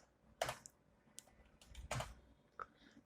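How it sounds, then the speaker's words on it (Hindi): Quiet keystrokes on a computer keyboard, a few separate clicks with a sharper tap near the start and another near the end, in an otherwise hushed room while someone works in pharmacy billing software. "यहाँ पर बिल ऐड करने के लिए इंसर्ट बटन प्रेस करते हैं"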